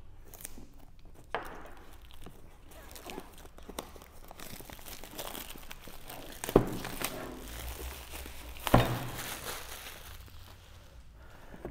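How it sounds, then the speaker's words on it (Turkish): Cardboard packaging of a Xiaomi Fimi X8 Mini V2 drone being opened, with soft crinkling, rustling and tearing close by, plus a couple of sharper snaps or pops midway, fairly quiet throughout and without talk. "Hadi hemen kutuyu açalım."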